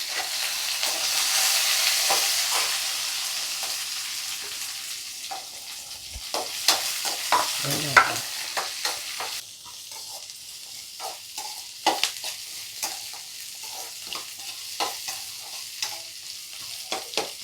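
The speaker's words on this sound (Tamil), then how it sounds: "நல்லா பொரிஞ்ச உடனே வெங்காயத்தை போட்டு வளர்க்கணும்." Large onions sizzle and crackle in hot oil for mushroom gravy, with scattered stirring scrapes and clinks of a utensil against the pan throughout.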